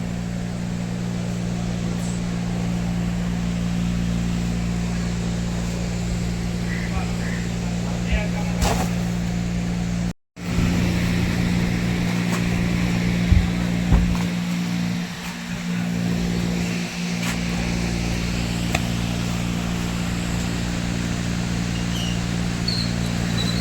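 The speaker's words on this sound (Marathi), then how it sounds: "गाडी भरत चालू केलेलं आहे" A loaded truck's engine drones steadily while it drives along a road between Ahmedabad and Ichalkaranji, a constant low rumble with one brief dropout midway and occasional voices over it.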